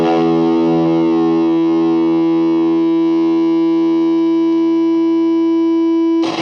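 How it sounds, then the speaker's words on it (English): Electric guitar through an Ibanez Tube Screamer overdrive pedal, one driven chord struck and left to ring out with a thick, gritty sustain for several seconds before a short scrape at the end, loud and alone. "This Overdrive 2 does sound more like a traditional tube screamer."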